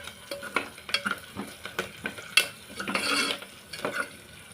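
A Telangana-style tempering for raw tamarind pulusu is fried and stirred in a pan, with quick scraping and clinking strokes of a utensil over a steady close sizzle of hot oil and spices.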